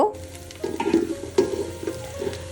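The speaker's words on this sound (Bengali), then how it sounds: "পেঁয়াজটি একটু হালকা ভেজে নেব" Chopped onions frying lightly in a pan for beef kacchi biryani, a steady soft sizzle with a few louder bursts as they are stirred, close by and alone.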